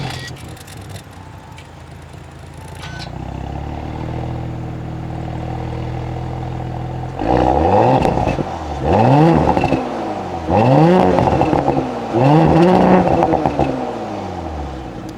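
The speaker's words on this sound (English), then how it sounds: "the S4 has a completely different engine than the A4, a 3-liter turbocharged V6." An Audi S4 B9 with its 3-liter turbocharged V6 idles, then is revved four times in quick succession, each rev a loud rising-and-falling roar close by.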